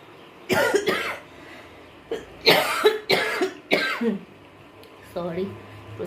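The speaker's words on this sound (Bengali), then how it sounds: "প্রচণ্ড কাশি হয়েছে" A person coughs and clears their throat in a series of harsh, close bursts, with short quiet gaps between them and a few rougher hacks toward the end.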